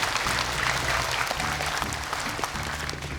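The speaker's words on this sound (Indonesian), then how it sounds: "Boleh tepuk tangan, silakan." An audience claps on a televised Quran recitation competition stage in Indonesia, a dense, even burst of applause over background music, with no speech.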